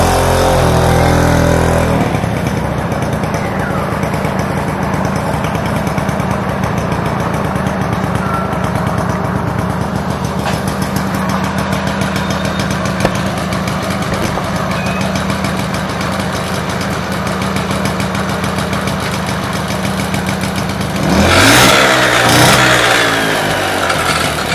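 A 1972 Piaggio Ciao, a classic Italian moped, runs its small engine steadily and loudly for the whole stretch, with a rising rev burst near the end and no talking.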